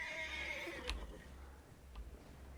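A stressed horse in the video game Red Dead Redemption 2 lets out a drawn-out whinny at the start, followed by a couple of soft thuds over a low steady hum, with no voices.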